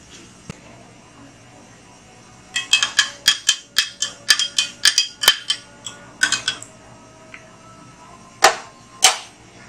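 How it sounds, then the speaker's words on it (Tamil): A spoon stirs mojito syrup drink in a glass, giving a run of bright, sharp clinks in quick rhythmic succession, loud and close, followed by a pause and two final taps, with no talking. "இப்போ இதை நல்லா கலக்கி விட்டுலாம்."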